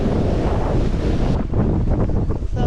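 North wind blowing at an anchorage in a Newfoundland fjord, a loud, steady roar of wind buffeting the microphone with a faint wash of water, eased slightly partway through.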